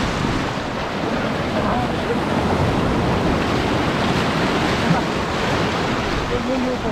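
Steady roar of sea surf and wind at the shoreline on the Mumbai coast, continuous and fairly loud, with no talking.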